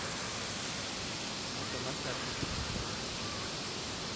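A mountain waterfall rushes as a steady, even wash of broadband noise that fills the whole span at a constant level, with no clear birdsong standing out above it.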